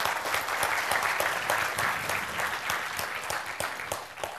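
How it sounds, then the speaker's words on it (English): An audience at EVE Online Fanfest 2009 applauds, with dense, steady clapping from a large indoor crowd that carries on throughout and fades slightly at the end. "let's give them applause."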